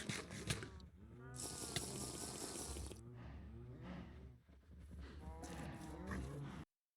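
In the Minecraft video game, cows give repeated low, drawn-out moos over a few seconds while other game sounds play underneath at moderate loudness.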